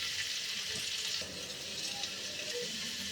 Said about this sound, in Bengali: ওলটা ভাজা হচ্ছে